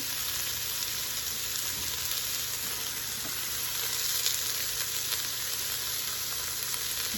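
A large onion sizzles loudly in a hot pan under a constant dense hiss, with small crackles and occasional stirring scrapes, and no one speaking.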